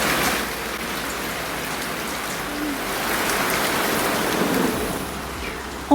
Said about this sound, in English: we're getting a bit of rain in here, as I'm sure you can hear